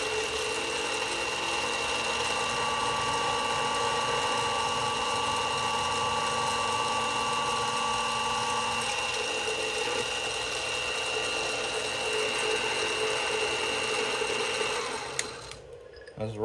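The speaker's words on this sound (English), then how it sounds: "so let's drill a couple holes here" A drill bores holes in a motor plate for a rock tumbler, using a small stop fixture. It gives a steady, close mechanical whine that holds for about fifteen seconds, then stops with a few clunks at the end.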